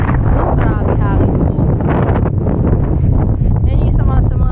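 Strong wind buffets the microphone on the Portsmouth seafront, a loud constant roar and rumble, with people talking underneath.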